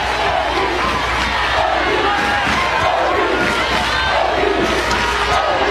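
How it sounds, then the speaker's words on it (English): A stadium crowd at a college softball game between UCLA and Oklahoma in the Women's College World Series roars and cheers steadily, a loud sustained wall of voices with shouts and whistles rising throughout. "Listen to the crowd. Listen to this crowd."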